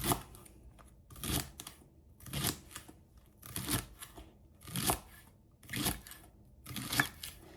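A knife slices leeks on a cutting board in six or seven evenly spaced crisp strokes, close and fairly quiet, each one a short crunchy chop.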